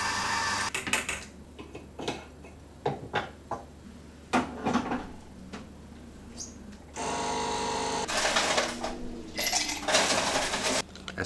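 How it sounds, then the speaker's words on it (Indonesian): Iced americano being made in a kitchen, with scattered sharp clinks of dishes, cups and ice, cupboard knocks and a longer stretch of rattling or pouring, close and with no talking. "Pertama kita nyiapin kopi dulu."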